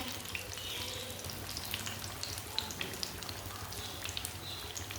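Green chilli pakoras fry in hot oil with a steady, crackling sizzle and scattered bubbling pops, close and continuous throughout with no talking.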